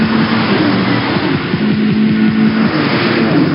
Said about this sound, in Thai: สปิริตแห่งเครื่องยนต์ VTEC Turbo All